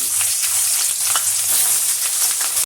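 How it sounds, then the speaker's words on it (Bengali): Puti fish fry in hot mustard oil in a kadai, making a loud, dense, steady sizzle that runs close and unbroken throughout without speech. "এবারে আমি পুঁটি মাছগুলো ভেজে নিচ্ছি।"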